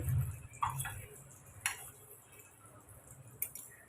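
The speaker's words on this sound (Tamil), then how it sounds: "கடுகு வெந்தயம் பொரிஞ்சிச்சு" Mustard and fenugreek seeds splutter in hot oil with a few scattered faint pops and ticks over a low sizzle, heard close and quietly.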